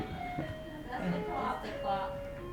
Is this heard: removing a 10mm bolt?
no